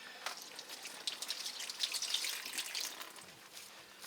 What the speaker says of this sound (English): you can wet your hands down a little bit